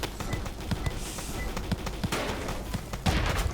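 Rapid gunfire in a Roblox game featuring Edward the Man-Eating Train and a giant cannon: bursts of quick shots crack in uneven clusters over a dense, rumbling game backdrop, moderately quiet, with a voice present at times.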